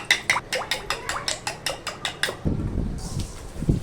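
A spoon scrapes and clinks rhythmically against a bowl while homemade yogurt curdled with lemon is stirred, about a dozen even strokes, then softer squelchy mixing by hand.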